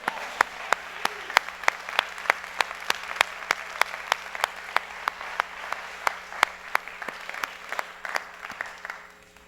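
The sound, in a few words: applause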